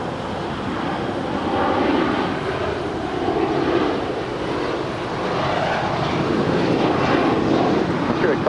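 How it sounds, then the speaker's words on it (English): A Gulfstream G650ER business jet at LAX rumbles with steady, broad engine roar throughout, loud and continuous with a faint windy edge. "we do have the Qatar Executive Private Gulfstream G650ER heading to Tokyo Haneda, flight 505."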